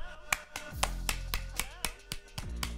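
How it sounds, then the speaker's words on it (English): A person claps about ten sharp, loud claps at an uneven rhythm, close to the microphone. "I clap like this now"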